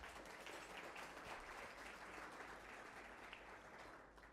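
Dense, steady applause from a crowd fills an awards ceremony hall, continuing evenly throughout and fading slightly at the close.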